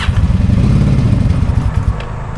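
A motorcycle engine that may be out of fuel, sputtering in uneven, chugging pulses close by, then fading and weakening toward the end.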